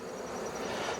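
Honey bees fly around a beekeeper at a hive, giving a brief, steady, close buzzing hum that sounds alone.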